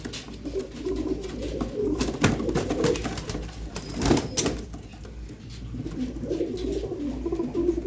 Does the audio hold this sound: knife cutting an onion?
no